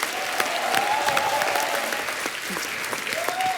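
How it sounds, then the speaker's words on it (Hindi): A studio audience at The Kapil Sharma Show comedy taping claps in loud, sustained applause that rises and continues throughout, crowding out other sound. "जोरदार तालियां"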